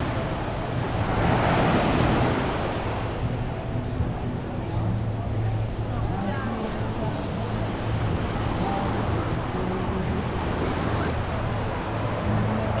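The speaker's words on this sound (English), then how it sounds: "These waves are OD." Ocean waves breaking at Waikiki Beach, Hawaii, a continuous rushing surf with wind buffeting the microphone, a steady moderate wash that swells briefly near the start.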